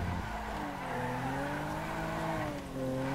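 In an online driving game, a Toyota Camry XV55 squeals its tires through a corner: a faint, wavering screech that glides up and down over a low engine drone.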